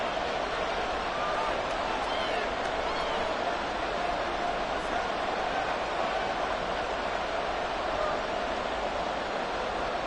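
Simulated stadium crowd noise from the Madden 24 football video game forms a continuous, dense roar that stays steady and loud for the whole stretch, with no breaks.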